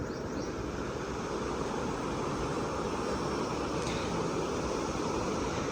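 Water rushes through the open spillway of Mangla Dam at Mirpur, Azad Kashmir, a steady, dense roar that fills the whole stretch without letting up, with no voices over it.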